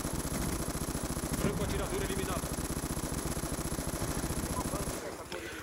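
Sustained rapid automatic gunfire from a QBB light machine gun in a video game, dense and continuous, then it cuts off abruptly near the end.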